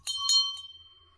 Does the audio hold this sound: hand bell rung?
yes